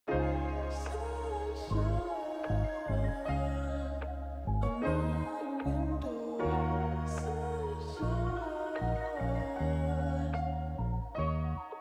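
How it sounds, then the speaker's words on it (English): A vocal chop sample from Splice sounds over a deep, sustained bass and chord bed, clipped melodic phrases repeating in a steady loop, musical and continuous with no speech. "So I got this vocal chop from Splice to sound like this."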